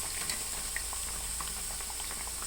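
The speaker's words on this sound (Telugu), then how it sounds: "ఆయిల్లో వేయించి" Onion fritters bubble and fry in oil, a soft, even seething hiss with faint scattered pops, fairly quiet and without any voices.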